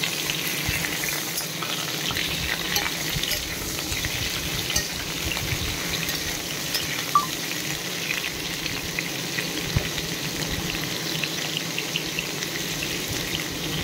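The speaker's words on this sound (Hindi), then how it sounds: "ये आलू को भल भाव गोल्डन ब्राउन कलर करके भाजवा।" Potatoes fry in mustard oil in a wok, browning toward golden, giving a continuous even sizzle with soft bubbling and a few faint clicks; close and steady with no talking.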